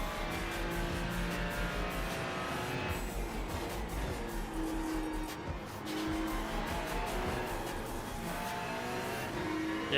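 Ferrari race car on the Zolder circuit in iRacing, engine droning and revving continuously at a steady loud level with occasional tire squeal, no talking.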